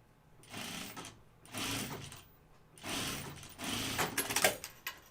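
A home sewing machine stitches fabric for a flight suit in several short bursts of rapid mechanical whirring and clatter, separated by brief pauses, close up with no talking.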